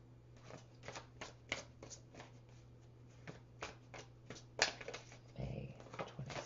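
Oracle cards are shuffled by hand before a Romance Angels reading, a quiet, close run of soft riffling bursts and rubbing card noises with short pauses between them over a low steady hum.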